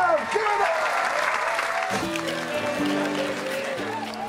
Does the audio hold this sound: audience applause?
yes